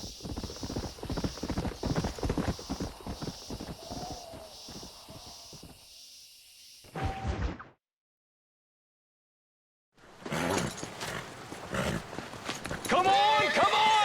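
Horse hooves clip-clop on the ground in the Red Dead Redemption video game, a stallion's steps pattering rhythmically under voices, breaking off into silence before more hoofbeats and talk return.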